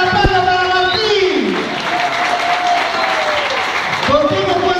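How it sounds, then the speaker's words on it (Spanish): Applause for Martín at his birthday gathering, right after the birthday song, a steady crowd clapping with people talking and a voice gliding over it. "¡Fuerte el aplauso para Martín!"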